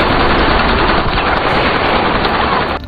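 Dense, sustained automatic gunfire from a war film, rapid bursts blending into a continuous loud roar across the whole stretch, cutting off abruptly near the end.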